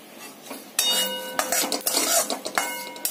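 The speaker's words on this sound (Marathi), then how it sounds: "हे आपण छान असे भाजून घेणार आहोत।" White sesame seeds dry roast in a pan as a metal spoon scrapes and clinks against it in quick repeated strokes, close and clear, with a faint crackle underneath and no voices.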